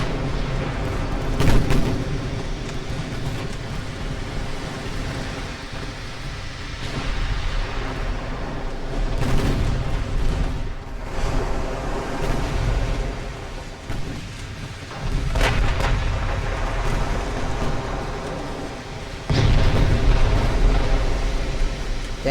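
Warships of an 1890s hull fleet firing naval guns in the video game Ultimate Admiral: Dreadnoughts, repeated deep booming salvos over a continuous rumble, with someone talking over the battle.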